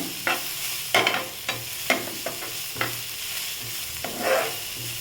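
Cassava bonda filling is sautéed in a pan, a spoon scraping and tossing it in a series of distinct strokes over a low sizzle, recorded up close with no speech.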